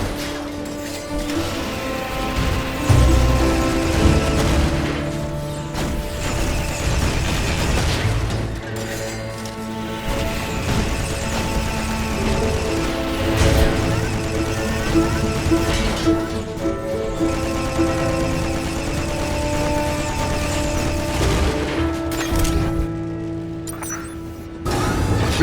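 Missile turrets are engaged in Rift Star Raiders, a twin-stick shooter, with a dense, continuous wash of explosions, weapon fire and mechanical clatter layered over game music throughout.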